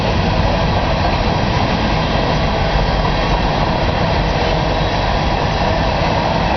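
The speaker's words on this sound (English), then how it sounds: "Here's a train that's making all that noise." A train passes near a front yard, producing a loud, steady roar of wheels and engine that fills the whole stretch without letup.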